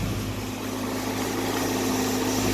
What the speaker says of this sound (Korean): 본네트를 한번 열어서 엔진을 한번 보여드릴게요